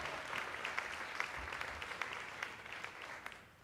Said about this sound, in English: Let's give a big Houston round of applause for Joanne Scott and Miss Charlotte.